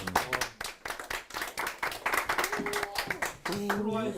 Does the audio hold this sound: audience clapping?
yes